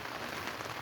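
Rain pattering on a very small tent pitched in a field near Heacham beach, a steady, even hiss of drops close overhead with no voices.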